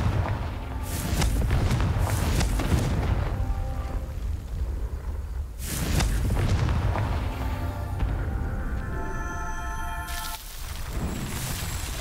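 Blasting-spell explosions from the Confringo spell in Hogwarts Legacy: several loud booms and blasts strike at intervals over a continuous rumbling background, with lingering ringing tones after the impacts.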